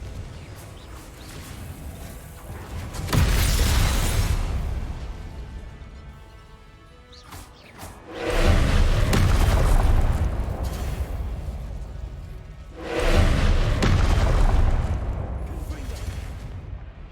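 Explosions from the Confringo blasting spell in the video game Hogwarts Legacy, three loud, roaring booms spaced several seconds apart, each sustained and rumbling before fading, with quieter game sounds between them.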